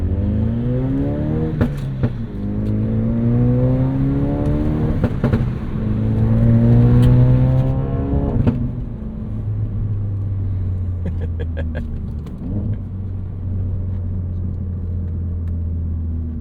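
A 2016 Ford Focus RS hot hatch with a 2.3-liter engine revs up through the gears while driving, the pitch climbing in strong surges before settling into a steady cruising drone inside the cabin.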